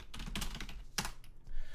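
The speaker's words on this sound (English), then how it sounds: "please excuse my clicking and tapping on the keyboard" Clicking and tapping on a computer keyboard, with a quick run of near keystrokes, a sharp louder click midway and more taps at the end, no voices.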